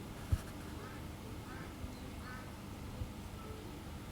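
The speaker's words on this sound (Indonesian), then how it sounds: "Bebek, itu suara bebek bukan ayam." A duck quacks faintly several times beside a house near a garden, soft distant calls scattered over a low background hum.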